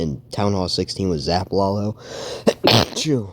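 A single sharp sneeze bursts out after a stretch of close speech, and talking resumes right after.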